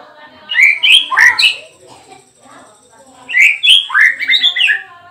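A caged Copsychus songbird, freshly bathed, chirps close by in two bright phrases of rapid, whistled notes separated by a short quiet pause.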